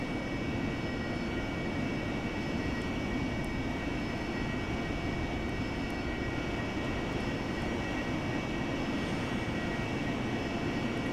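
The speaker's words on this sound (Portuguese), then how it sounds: "estamos usando a aeronave AV-8B Seahawk" A constant, loud jet-engine roar from an AV-8B Harrier in the DCS World flight simulator holds level from start to finish, a broad rushing drone with a faint high whine and no talk over it.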